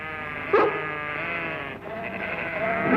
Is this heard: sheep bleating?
yes